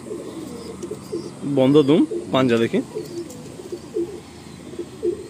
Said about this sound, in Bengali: পায়রাগুলো সব ক্রুসে এসে গেছে